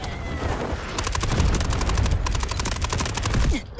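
Rapid automatic gunfire in the video game Delta Force: a fast, steady stream of close, loud shots in two long bursts, with a brief break between them, over a low rumbling background.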